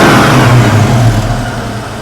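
Ford Mustang Foxbody engine given a single throttle snap: a loud, close rev that rises quickly and then settles back toward a steady idle with no hunting, no talk over it.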